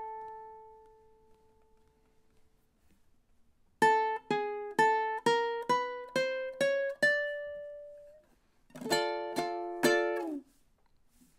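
Ukulele playing a tune's ending: a soft sustained opening note, then a rapid descending run of crisp plucked notes, a held note, and a final cluster of quick chords before a muted stop, close and clear.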